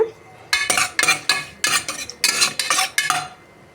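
Whole spices fry in oil in a pressure cooker while a metal spoon stirs and scrapes in quick repeated bursts, loud and close, over a faint sizzle.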